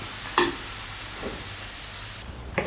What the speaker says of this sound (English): Stir fry a little while until the sauce thickens.